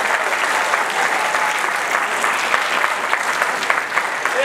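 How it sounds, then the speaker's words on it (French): An audience applauds prize winners at the Grand Prix Padel 2022 ceremony, a dense, even roar of clapping that holds steadily for the whole stretch with no break. "Je voudrais vous demander d'applaudir très fortement tous ces lauréats qui sont là"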